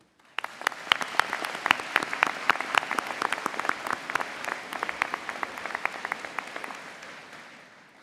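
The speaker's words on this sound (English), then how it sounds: "Please join me in a round of applause to show our thanks and appreciation." Audience applause fills a spring convocation ceremony at Niagara College, a dense, steady patter of many hands with sharp individual claps that starts abruptly, holds strong, then gradually fades toward the end.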